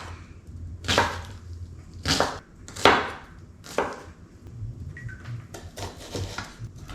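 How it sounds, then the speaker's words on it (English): A kitchen knife roughly chopping vegetables on a board for shrimp enchilados, with about seven loud, separate thuds that come at an uneven pace and stand alone without talk. "I'm going to give it a rough chop"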